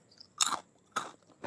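Crunchy, spicy pork binagoongan is bitten and chewed close to the microphone in two distinct crisp crunching bursts, with quiet gaps between them.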